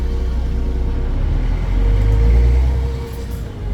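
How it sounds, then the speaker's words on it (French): Heavy 40-tonne, 18-metre truck idling at a motorway toll booth, a deep steady engine rumble that swells briefly and then eases, close and loud, with no talking. "j'ai conduit un camion de 40 tonnes qui fait 18 mètres de longueur"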